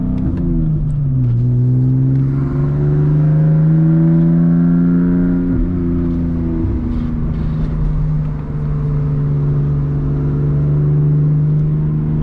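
A BMW E46 with a 5-speed gearbox drives at night with the windows down, its engine note rising and settling through steady revs as it cruises under a constant road and wind rumble.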